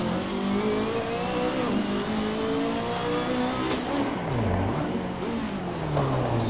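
A simulated car in Assetto Corsa drifts around a circuit corner, its engine note droning and rising and falling in pitch as the revs swing, with tyre noise under a continuous, close, loud engine roar.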